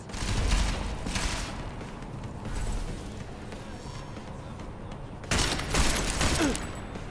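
Gunfire in the video game Deus Ex Mankind Divided comes in several short bursts of shots spread across the scene, with quieter game ambience between them.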